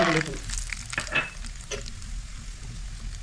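Tempering for lemon rice frying in hot oil, a crackling sizzle with sharp spits and pops, loudest at the start and settling into a steadier hiss, with brief voice at the opening.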